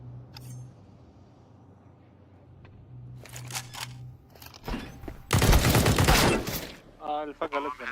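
Gunfire from a Counter-Strike 2 match, with a few scattered shots early and then a loud, dense burst of rapid fire near the end, followed by choppy bursts and some talk in the background.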